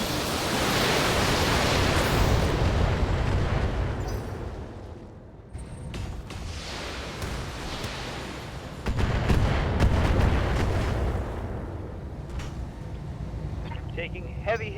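Artillery bombardment in the BattleTech game: loud, sustained rumbling blasts roll in waves, with a fresh heavy burst partway through, under voices talking over radio.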